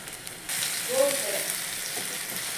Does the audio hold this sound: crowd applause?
no